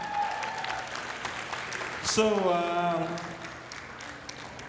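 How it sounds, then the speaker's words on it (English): An audience claps at a gala dinner, with a steady wash of applause running under a speaking voice. "A round of applause for them again."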